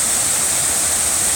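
Powerful waterfall and stream pour in a steady, loud broadband rush beside a building lot, a continuous close roar with no break.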